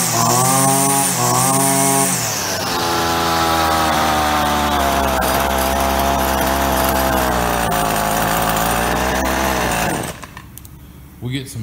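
A Husqvarna string trimmer engine, running after ethanol gas trouble, buzzes loudly and closely, revving high at first, then settling into a steady drone before dropping off near the end, with a voice heard over it.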